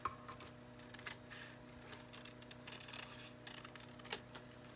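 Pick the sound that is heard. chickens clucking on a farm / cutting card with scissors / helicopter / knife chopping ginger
cutting card with scissors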